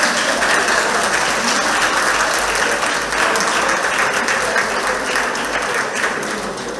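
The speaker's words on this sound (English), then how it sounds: "give them a round of applause" A room of retirees at a monthly association meeting in a community hall breaks into loud, sustained applause, a dense, even wash of many hands clapping that holds steady for several seconds and eases slightly at the end.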